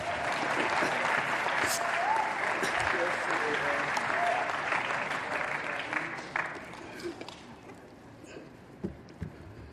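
Sustained applause from an audience at South Africa's national election results announcement by the electoral commission, a broad wash of clapping that holds steady, then gradually thins and fades toward the end.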